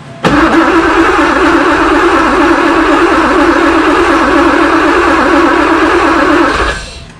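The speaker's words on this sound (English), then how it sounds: "now we go ahead and try to start the car" A Porsche 928 V8 cranks and fires just after a fuel pump replacement, then runs steadily and loudly up close for several seconds before cutting off abruptly near the end.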